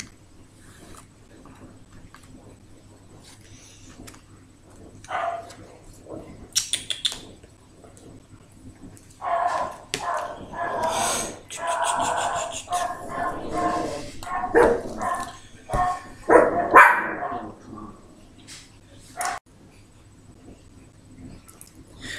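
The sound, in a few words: dogs barking, neighbour's dog and small female dog answering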